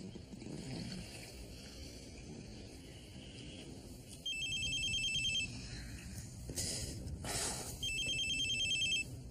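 A telephone rings indoors in a French-dubbed TV series scene, several bright electronic ring bursts in a repeating pattern against quiet room tone, fairly close and clear.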